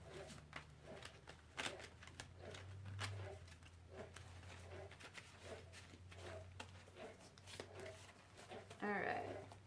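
Tarot cards being shuffled by hand, a steady run of soft riffling and patting taps throughout, with a low hum beneath and a brief chirping sound near the end.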